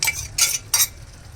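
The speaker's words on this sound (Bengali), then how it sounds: "এবার মশলার সঙ্গে ভালো করে আমি কষিয়ে নেবো।" Minced meat with spices being stir-fried in a pan: three quick, loud spatula scrapes over a faint low sizzle, close up.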